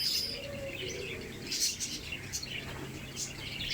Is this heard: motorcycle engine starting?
no